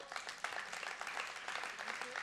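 Audience applause at a disability summit as the Vice President of Argentina, Gabriela Michetti, is welcomed to speak; steady, dense clapping from a crowd at moderate volume for about two seconds.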